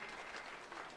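An audience at a 2026 Idaho championship event applauds the judges in a brief, dense burst of steady clapping from many hands.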